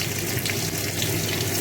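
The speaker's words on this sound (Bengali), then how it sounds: "রসুনগুলো একটু লাল লাল করে ভাজা হোক।" Garlic sizzling steadily in hot oil alongside already-fried potatoes in a pan, a close, continuous crackling hiss with no talking.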